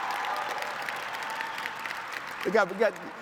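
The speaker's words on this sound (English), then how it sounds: "A big round of applause." Applause from a gala audience fills the hall at a moderate level throughout, with a voice breaking in near the end over the clapping.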